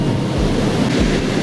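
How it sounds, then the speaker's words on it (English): Strong wind over 30 km/h gusts across open sea with whitecaps, a loud steady roar of wind buffeting the microphone over surf, with low rumbling gusts pulsing beneath. "we've got a wind of over 30 kilometers an hour blowing"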